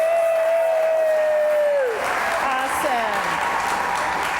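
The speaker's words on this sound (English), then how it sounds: "So let's give those sports teams a cheer." An audience at a school awards evening breaks into cheering and applause after a tonal, sliding sound fades out, the clapping and whoops forming a dense, steady wash.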